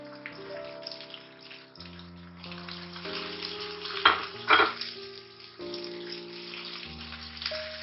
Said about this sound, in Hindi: इसको हमने हल्का सा सौते करना है ताकि बड़ी मजे की खुशबू आ जाए इसके अंदर हरी मिर्चों की